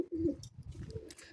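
Pigeons cooing inside a pigeon coop, a few soft, low throaty coos in quick succession, close by, with faint chirps and rustling in the background.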